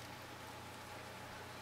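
Steady rain hissing faintly and evenly in a NieR:Automata anime scene, a soft continuous wash with a low hum underneath and no voices.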